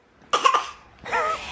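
Two close, loud coughs from one person: a harsh, rapid double cough, a brief pause, then a longer, rasping cough.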